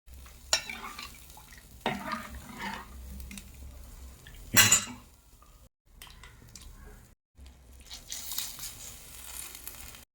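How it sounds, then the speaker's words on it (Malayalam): A ground spice paste loosened with water being stirred in a cooking pot, with scraping spoon strokes, metallic clanks against the pot and brief pauses between bursts of stirring. "ഈ അരപ്പ് ഇതിലിട്ട് കൊടുക്കും വെള്ളമോടെ ചേർത്ത് മിക്സ് ചെയ്യാം"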